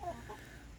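Soft, brief clucking from a pair of blue-laced Wyandotte chickens about 18 weeks old, quiet and close against a low background murmur.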